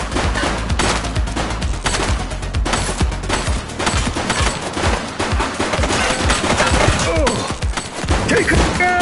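Rapid bursts of gunfire from a suspect in the police video game The Precinct, dense and loud, overlapping shots crackling continuously for several seconds with thuds and impacts mixed in.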